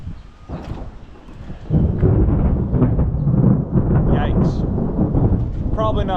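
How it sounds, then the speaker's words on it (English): Thunder rumbles through a lightning storm with heavy rain pouring down, the low roar swelling loud and steady after a quieter start, close and continuous for several seconds. "Then it started pouring down rain. If you didn't just see the flash of lightning."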